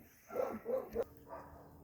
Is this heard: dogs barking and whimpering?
yes